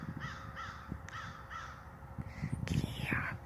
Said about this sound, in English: There's crows in there.